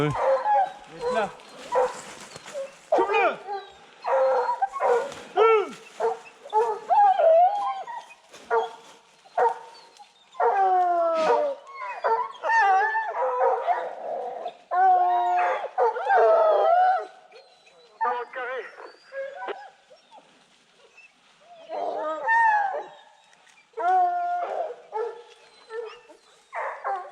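Hunting dogs in a pack bay and yelp repeatedly along a wild boar trail through snow, their overlapping barks and whimpers coming in irregular bursts at moderate distance throughout.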